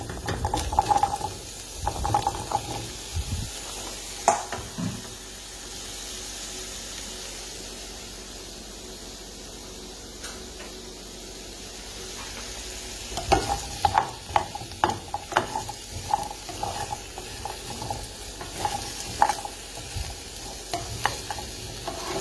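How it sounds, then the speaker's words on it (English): Sweet potato chunks frying in grapeseed oil in a pan over medium-high heat, a steady sizzle broken by clattering bursts of stirring and scraping, loudest after a quieter stretch midway. "I'm going to add my potatoes."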